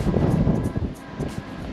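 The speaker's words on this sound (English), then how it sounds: "It's super windy here." Strong wind buffets the microphone throughout at a state park, producing a loud, continuous low rumble with gusty swells and no voices.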